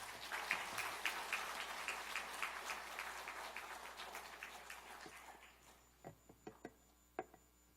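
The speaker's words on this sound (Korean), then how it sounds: "나오실 때 힘찬 우리 축복의 박수 하겠습니다" A church congregation applauds to welcome a pastor at a retirement and ordination service: a dense wash of clapping that fades to a few scattered claps.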